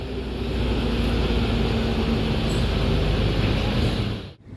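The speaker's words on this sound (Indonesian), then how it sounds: "Nah, ini masuk lagi ya bus NPM Berenangina." A PO NPM intercity bus pulls into the Busur bus terminal, its engine a steady, loud, low rumble that holds for several seconds before cutting off abruptly.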